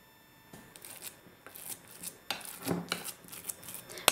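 Cottage cheese mixed with sugar, egg and raisins is stirred in a bowl, giving soft irregular scraping and clicking strokes that come in bursts, close by and fairly quiet, with no talk.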